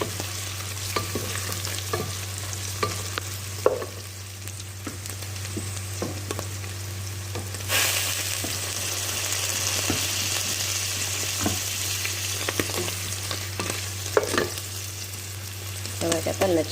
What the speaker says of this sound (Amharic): ትንሽ አብሬ ልጠብሰው ስለፈለኩ ነው እንደ ሽንኩርቱ